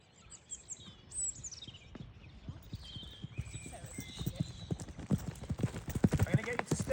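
Horse hooves clip-clop in a steady trotting rhythm on an arena surface during a jumping lesson, growing louder and closer toward the end, with birds chirping in the background.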